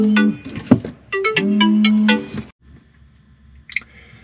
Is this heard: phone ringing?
yes